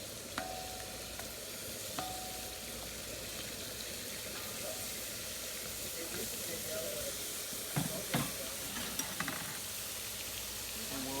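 Onions and yellow squash frying on a hibachi grill at home: a broad, steady sizzling hiss with a few scattered clatters and scrapes from a utensil toward the end.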